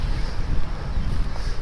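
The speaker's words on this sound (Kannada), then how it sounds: "ತಣ್ಣ ಗಾಳಿ ಬಿಸ್ತೈತೆ, ಒಳ್ಳೆ ಫ್ರೆಶ್ ಆಗಿ" Cold wind rushing past during an early-morning motorbike ride with friends, a loud, steady buffeting roar across the microphone.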